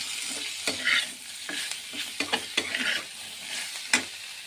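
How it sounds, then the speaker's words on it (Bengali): Dried red chillies crackle as they are tempered in hot oil and stirred for a Bengali tangra fish dish: a close, steady sizzle punctuated by sharp clacks and scrapes of a spatula against the pan, with no speech. "শুকনো লঙ্কা ফোড়ন দিয়েছি, দিয়ে নাড়াচাড়া করে জল দিয়ে দেবো।"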